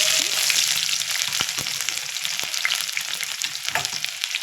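Chopped onions sizzle steadily in a hot pan, a dense hiss broken by a few sharp stirring scrapes, close and continuous with no voices.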